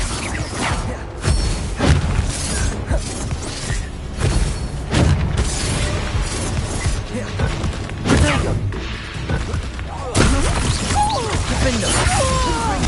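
Bombarda and Incendio spell blasts in the Hogwarts Legacy video game, with repeated booming bursts and crashing impacts coming every few seconds over a continuous clamor of combat effects.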